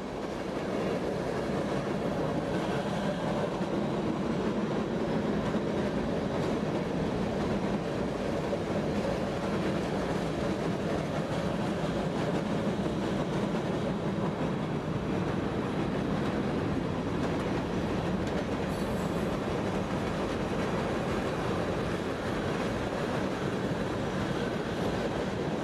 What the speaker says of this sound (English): we caught the train atop a high steel bridge over the MUSCATATUCK River.